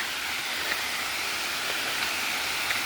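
Steady broadband rush of a waterfall heard from a nature trail, a constant hiss of falling water at moderate distance with no talk.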